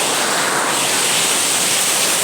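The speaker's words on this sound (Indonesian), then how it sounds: "Hujannya terlalu deras." Heavy rain pours down during a flood, a dense, loud, unbroken hiss of falling water that fills the whole moment, with no voices.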